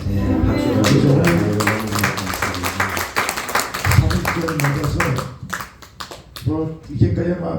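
Congregation clapping during a March First Movement memorial church service, a burst of scattered applause under a voice over a microphone, fading in and out as he keeps speaking.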